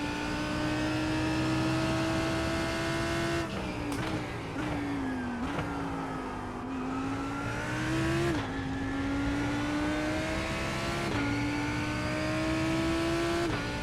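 A GT3 race car engine in a racing video game drones steadily at high revs, its pitch dipping on braking and downshifts and climbing again through several gear changes, continuous and even, with no talk.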